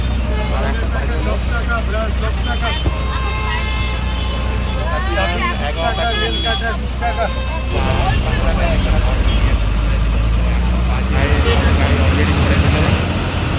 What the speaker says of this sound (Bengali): বাসে উঠলাম। আর বাসে বসে পড়লাম